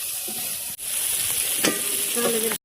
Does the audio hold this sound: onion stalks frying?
yes